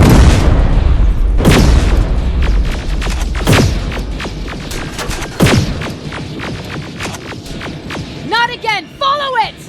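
Gunfire and heavy booms burst repeatedly in a Terminator Resistance battle, loud repeated blasts with ringing tails, followed near the end by warbling electronic tones and brief voices.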